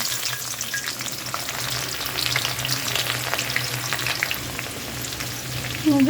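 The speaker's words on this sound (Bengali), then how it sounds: "এখন আমি গরম তেলে পেঁয়াজ কুচি দিয়ে দিলাম" Steady, crackling sizzle of chopped onions frying in hot oil, close and continuous, with occasional scraping stirs and no talking.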